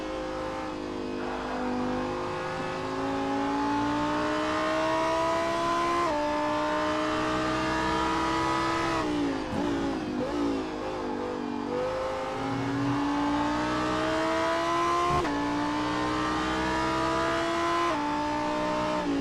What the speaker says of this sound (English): Switching to Karl Struhl's onboard in the number 42 Lamborghini STC.